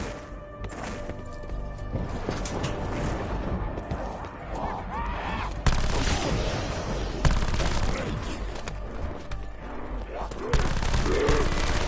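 Dense, continuous rapid gunfire from a Call of Duty Black Ops 4 match hammers away loudly, with sustained automatic bursts and sharper louder volleys hitting at several points.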